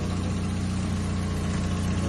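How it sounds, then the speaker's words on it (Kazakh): A car with a 1.8 engine idles at a used-car lot, heard as a steady, even low hum that stays constant and moderately close, with no voices over it. "Мотордун иштештерин көрүп атасыздар."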